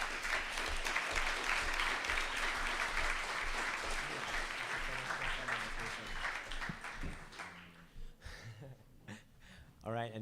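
Assembly delegates at the BIMUN 2024 General Assembly break into sustained applause as a resolution passes, a dense wash of clapping that thins and trails off toward the end, with scattered murmurs as it fades.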